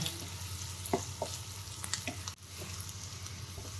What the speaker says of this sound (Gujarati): હવે આપણે આ ડુંગળી છે એને ડુંગળીને સાતળીએ સારી રીતે કૂક થવા દઈએ